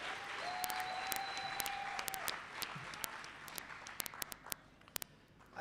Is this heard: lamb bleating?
no